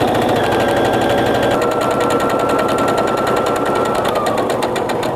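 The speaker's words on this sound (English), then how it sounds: "I'm just gonna keep stitching all the way down" A sewing machine stitches a French seam along a pillowcase in a fast, steady mechanical chatter, loud and close, running unbroken from start to finish with a slight shift in pitch partway through.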